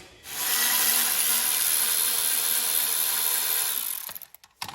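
A power tool whirs steadily for about four seconds while loosening a bracket bolt on a Craftsman lawn tractor, then cuts out into a few brief clicks and knocks; close and loud, no speech.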